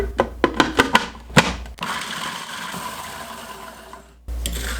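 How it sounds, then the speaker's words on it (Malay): A food processor pulses in several short bursts, then grinds Oreo biscuits continuously for a few seconds before stopping, with a brief restart at the end. "So sekarang ni kita boleh start blendkan kita punya biskut kita ni."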